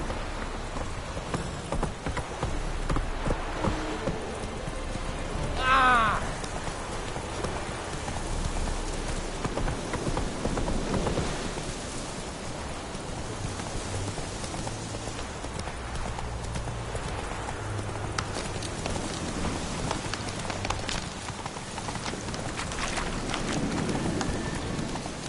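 The horse Roach in The Witcher 3 trots and gallops with steady clip-clop hoofbeats over a constant rain-like wash, with a brief whinny near the start and a low murmur of voice underneath.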